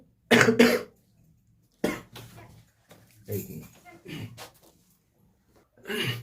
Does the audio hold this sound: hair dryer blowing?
no